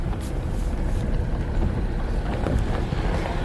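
A Jeep drives along a mountain trail in Montana's alpine lake country, giving a steady, close engine rumble mixed with buffeting wind noise, with no talking.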